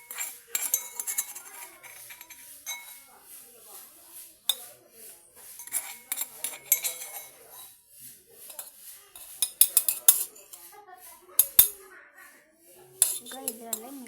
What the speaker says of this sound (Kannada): ಇವಾಗ ಪೇಸ್ಟ್ ಮಾಡಿ ಇಟ್ಕೊಂಡಿರೋದನ್ನ ಮಜ್ಜಿಗೆಯಲ್ಲಿ ಹಾಕೋಣ.